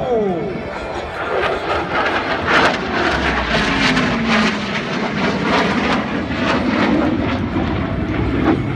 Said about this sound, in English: And now, flying in from your right and demonstrating the agility of his aircraft, Major Earp will now perform the triple aile